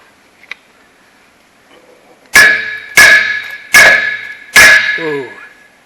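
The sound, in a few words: hammer striking metal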